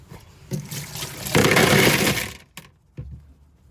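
Tumbled rocks from a rock tumbler barrel rinsed under running water, a close burst of splashing and rattling stones lasting about a second, framed by a few sharp knocks and clatters.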